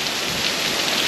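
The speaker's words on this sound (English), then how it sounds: "the rain is just coming in sheets" Heavy rain coming down in sheets during Hurricane Ian, a loud, unbroken roaring wash of water with no pauses or voices.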